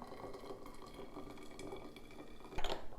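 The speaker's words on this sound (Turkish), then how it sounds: "Ben de üzerine 1 litre kaynamış su ekliyorum" Boiling water poured into a one-litre glass jar over thyme, a steady close liquid rush with a louder splashing surge near the end.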